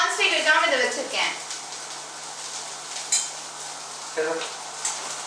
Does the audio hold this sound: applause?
no